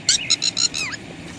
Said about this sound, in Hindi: पता नहीं भाई कौन सा पक्षी है